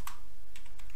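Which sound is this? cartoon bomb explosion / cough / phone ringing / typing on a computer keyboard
typing on a computer keyboard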